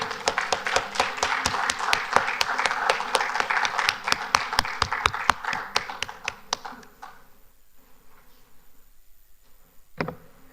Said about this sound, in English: another round of applause for our winners, the Academic School of Learning